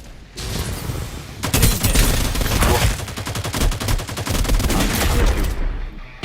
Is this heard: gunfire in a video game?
yes